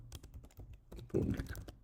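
Quick, irregular keystrokes tapped on a computer keyboard, close and moderately loud, with a denser burst of clacking toward the end and no talking.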